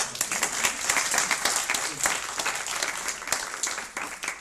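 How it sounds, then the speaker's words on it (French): An audience applauds children after a costume guessing game, with dense, continuous clapping at moderate distance that holds steady throughout. "On peut les applaudir."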